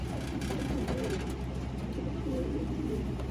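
A racing pigeon from a 51-mile toss gets handled up close, with soft low cooing and rustling under a steady background hum.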